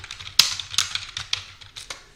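A short burst of keystrokes on a computer keyboard as a search is typed into a browser, about half a dozen crisp, close clicks in an irregular rhythm with no voice over them.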